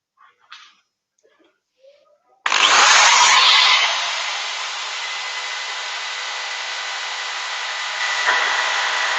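A few faint knocks, then a power drill starts abruptly and whirs loudly and steadily for several seconds, rising slightly near the end.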